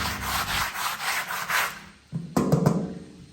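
Cloth wiping dust and light rust off a school bus surface during a conversion, producing a steady close rubbing swish for a couple of seconds, then a pause and a few sharper scuffing strokes.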